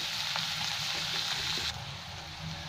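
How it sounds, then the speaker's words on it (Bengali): Potatoes frying in a covered pan until reddish, a steady soft sizzle with faint crackles that dims a little partway through, close by and without talk. "একটু লাল লাল করে ভেজে নেবো আমি।"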